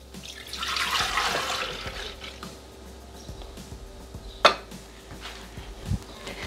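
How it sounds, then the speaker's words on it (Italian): Milk poured into a Thermomix TM6 mixing jug for pistachio pudding, a soft liquid pour swelling in the first two seconds then tapering, followed by a couple of faint clinks, with no talking. "Iniziamo la ricetta mettendo all'interno del boccale il latte."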